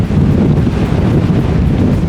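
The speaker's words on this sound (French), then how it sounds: "Il y a un vent de malade." Strong wind buffets the microphone in a loud, continuous low roar that barely lets up.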